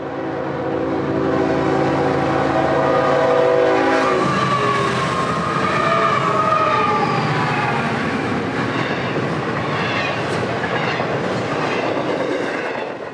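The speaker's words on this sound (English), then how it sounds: "107 is daily intermodal between Jacksonville and Miami, running a bit late today" An FEC intermodal freight train led by GE locomotives passes close by: a horn blast with loud engine drone gives way to continuous rumbling and clattering railcars rolling steadily past.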